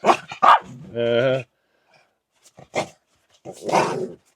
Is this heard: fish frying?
no